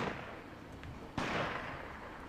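Gunfire in the World War II shooter game Medal of Honor Rising Sun, a dense crackling wash of distant battle noise with a sharp louder shot or blast cutting in midway, then continuing rumble.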